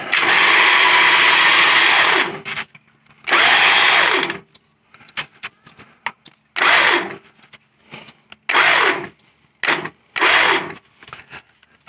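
An electric winch tightening a winch line in a series of whirring bursts, two longer pulls followed by several shorter jogs, close and fairly loud with quiet gaps between.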